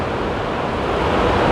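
Broad, steady rushing roar of the Shenandoah River running high after rains, a constant close wash of water without breaks.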